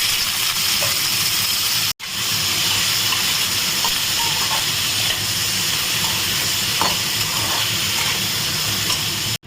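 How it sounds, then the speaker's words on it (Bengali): Soybean chunks frying in oil in a pan, a loud, steady, hissing sizzle that runs on for several seconds, with two brief cuts in the sound and a few faint clicks. "এবারে এই তেলেই আমি সোয়াবিনটাকে ভেজে নেব"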